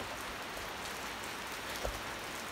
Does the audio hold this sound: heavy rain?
yes